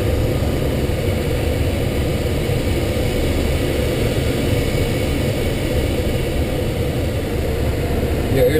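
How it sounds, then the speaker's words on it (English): Steady broadband rush of wind over a glider canopy during slow flight with a very small bank, continuous and even for the whole stretch with no voices. "Your airspeed indicator is pretty much the sound of the wind on the canopy."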